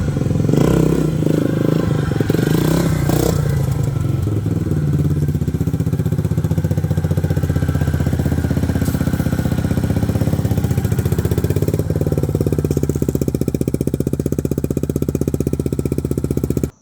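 1982 Honda XR250R motorcycle engine running, a loud steady single-cylinder rumble with clattery mechanical texture that holds close and continuous throughout, no voices heard over it.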